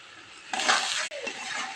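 Chopped onions sizzle and fry in a pan while a fish curry is cooked, a steady close broadband hiss that jumps louder halfway through, briefly drops out, then carries on evenly.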